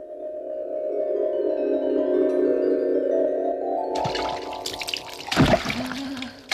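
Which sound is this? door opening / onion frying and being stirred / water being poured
water being poured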